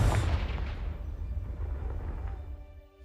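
A Confringo spell blast in Hogwarts Legacy booms as one loud, deep explosion up front, then rumbles and fades over a few seconds.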